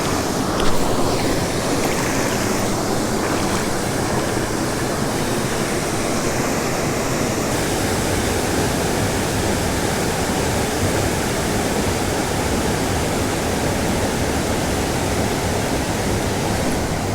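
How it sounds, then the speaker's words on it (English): A Wisconsin trout-stream waterfall roars steadily and close, a dense, unbroken rush of falling water that fills the whole stretch with no voices. "There is no way there is not a fish under this waterfall."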